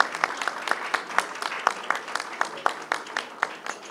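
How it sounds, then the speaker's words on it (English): An audience at an art festival event in Islamabad applauds, steady rhythmic clapping in a room, fairly close and moderately loud, continuing for several seconds. "Claps to Amna."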